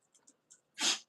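One short, sharp sneeze bursts out close and clear after a few faint snuffles, alone with no talking.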